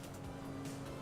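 A failing boat engine in a video game gives a rough, muffled rumble with a wavering mechanical drone. It sounds continuous and moderately faint, with no talk over it.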